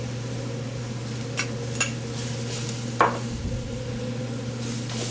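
Chipotle peppers stirred into chili sauteing in a pan: a steady low sizzle with a few light scrapes and clinks of a utensil against the pot, close and fairly quiet, with no talk.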